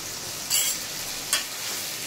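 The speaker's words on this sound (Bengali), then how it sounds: "মিশ্রণটি ঢেলে দেবো" A spice mixture hits a hot pan and sizzles with a steady close hiss, two brief louder bursts flaring up as it lands, no talking.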